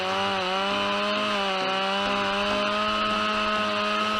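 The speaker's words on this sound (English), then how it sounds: "This sharp and powerful saw helps her cut wood easily and quickly." A Stihl MS-881 chainsaw cuts through wood outdoors. The engine holds a loud, steady, high-revving whine that continues without a break and with no voices.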